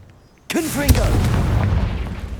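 The Confringo blasting spell going off in Hogwarts Legacy, a sudden booming blast that breaks a near silence, followed by crackling debris and a rumbling tail, with voices and combat sounds mixed in.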